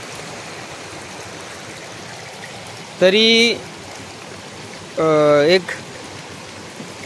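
Rain-swollen stream about three to three and a half feet deep rushing steadily in a monsoon-soaked Konkan morning, a continuous loud broadband flow, twice briefly overlaid by someone speaking.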